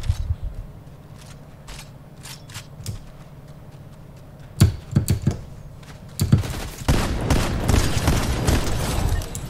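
Video game gunfire: scattered sharp shots near the middle, then a dense, sustained volley through the last few seconds.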